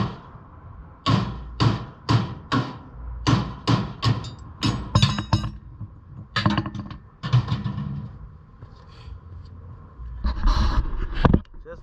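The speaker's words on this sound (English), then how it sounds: "now it's hammer time" Hammer blows strike the metal body of a 1966 Mustang coupe being converted to a fastback, landing as a rhythmic run of sharp, loud impacts with short pauses and a final flurry near the end.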